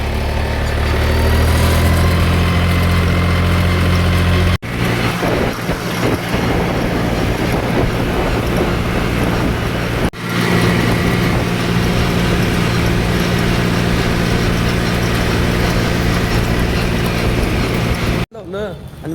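A tractor engine drones steadily and loudly as it pulls away, heading to the Sangli showroom for bumper and wiring work, with voices talking over the low rumble.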